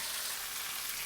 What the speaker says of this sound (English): First thing I'm gonna add is my onions and garlic and ginger.